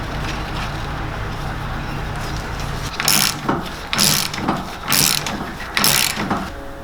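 A lock nut being fitted on a steering wheel short hub adapter, giving four separate bursts of metallic ratcheting close to the mic over a low background hum, with no one talking.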